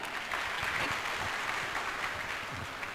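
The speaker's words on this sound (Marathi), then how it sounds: "भाऊसाठी जोरदार टाळ्या होऊ द्या." Crowd at a political campaign rally in a hall breaks into steady, dense applause, sustained and fairly even throughout with no speech on top.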